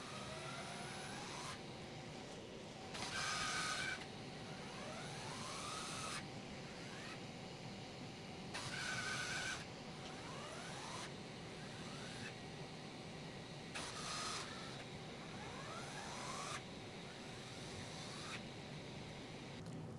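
Maslow CNC machine hauling itself around on its upper belts while measuring calibration waypoints, a steady mechanical whir with a cooling fan running throughout, broken by several brief louder motor bursts at regular intervals.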